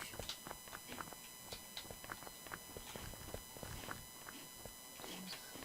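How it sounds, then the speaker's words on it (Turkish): Repeated footsteps in the video game Unturned patter along at a steady walking pace, crisp and fairly close, over a faint background hum with occasional soft voices. "O ayak sesleri senden mi geliyor?"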